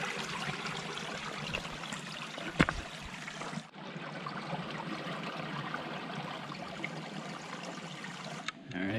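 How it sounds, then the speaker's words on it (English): Spring water gushes out of the ground beside the Appalachian Trail in the Tennessee highlands, a steady, even rushing and trickling that carries on without a break. "It's literally coming out of the ground and it's like a ton of water."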